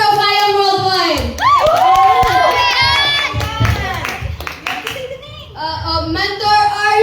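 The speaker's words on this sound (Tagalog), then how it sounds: "palakpakan natin" Audience clapping and cheering at a mentor recognition event, a lively crowd applauding under an enthusiastic host's amplified speech throughout.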